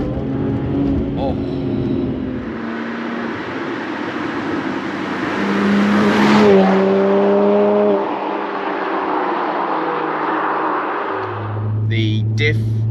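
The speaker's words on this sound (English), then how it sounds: "until you stick your foot down on the fun pedal. Then what you get is a massive spike of power." A turbocharged BMW 1M accelerates hard, its engine note rising in pitch from a steady drone into a loud surge of power midway, then settling and climbing again near the end.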